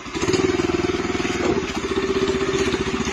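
Homemade fuel-free mini tractor reversing: a steady, close, loud chugging engine with a fast regular pulse and light mechanical clatter, continuous throughout with no talk.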